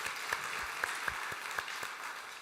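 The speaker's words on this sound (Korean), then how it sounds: "우리 서로를 격려하기 위해서 한번 박수하시죠." A church congregation at a Sunday service gives a short burst of encouraging applause, fairly quiet and diffuse with a few sharper individual claps standing out, no speech over it.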